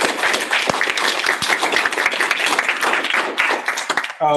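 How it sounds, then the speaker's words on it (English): Audience applause for poster and demo presenters at a frailty research event, a dense steady patter of many hands clapping that runs almost the whole time and cuts off abruptly at the very end. "let's give a round of applause to the poster and demo presenters"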